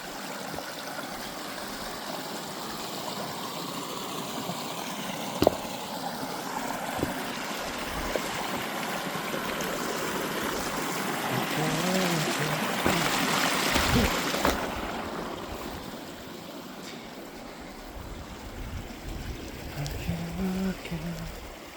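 A gully stream on a hillside hike over the West Pennine Moors, water running and splashing steadily over stones, a broad continuous rush with wind across the mic and occasional footsteps nearby.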